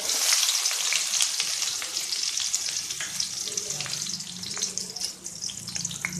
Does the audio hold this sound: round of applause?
no